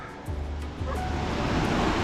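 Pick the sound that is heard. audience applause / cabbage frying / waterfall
waterfall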